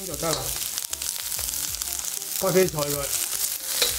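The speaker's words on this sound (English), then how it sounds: "We'll first stir fry the onion and cabbage for about 20 to 30 seconds, then add the carrots." Onion and cabbage stir-fried in a wok for chow mein, a steady bright sizzle with scraping and tossing, while voices talk over much of the frying.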